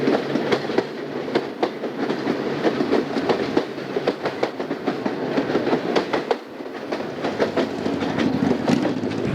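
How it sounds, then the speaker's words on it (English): Conrail freight train rolling past SR Block Limit Station at Jersey Shore on the Southern Tier Line, a steady close rumble with continuous clickety-clack of wheels over rail joints throughout, no talk. "There's meeting a freight at SR Block Limit Station"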